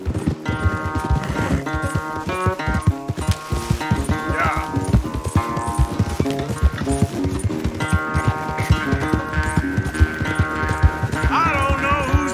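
Horse hooves pound rapidly in a gallop in the video game Red Dead Redemption 2, a steady driving clip-clop under a layer of game music and effects.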